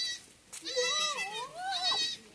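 Barbari and Ajmeri goats on a breeding farm give a loud, close, drawn-out bleat with a wavering pitch, followed by a second shorter bleat.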